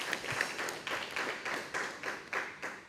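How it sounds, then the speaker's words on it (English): A prize-presentation audience claps together in a short burst, with quick, fairly even claps sounding a little distant and soft. "Can you all clap our hands for ourselves?"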